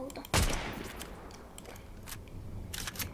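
Gunfire in the video game Fortnite: one loud sharp burst near the start, followed by fainter scattered shots and game noise over a steady background.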